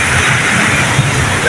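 Heavy rain pours down in a steady, dense roar that fills the whole short moment, loud and close, with flooding nearby.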